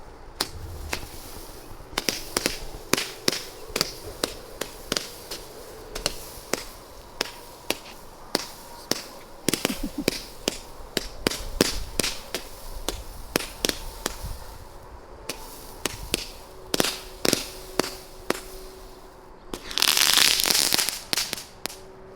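A 96-shot color pearl fireworks cake firing at a Fourth of July backyard show, a long string of sharp, irregular pops and cracks, some in quick bursts, ending in a louder crackling flurry near the close.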